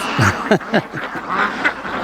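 Ducks on a free-range duck farm quacking in a quick run of close, loud calls, several overlapping quacks with brief gaps between.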